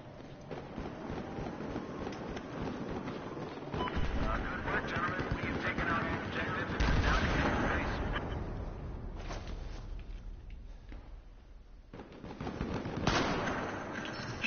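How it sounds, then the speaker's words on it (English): Battlefield video game gunfire crackles in bursts amid a steady rumbling battle din, loud and sustained, with a spoken voice likely running under the shooting. "I might be able to get a decent shot on them"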